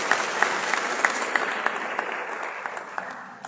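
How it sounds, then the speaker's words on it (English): An audience applauds a cardiology professor at an inaugural lecture with a steady, moderately distant patter of many hands, a few sharper claps standing out as it gradually fades. "A round of applause for him."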